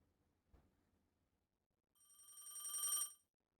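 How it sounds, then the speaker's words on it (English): A telephone bell rings in a dark, empty house in the video game Dreambound, a single clear electronic trill burst of about a second after near silence, preceded by a faint thump. "A ringing sounded through the darkness, echoing through the soulless house."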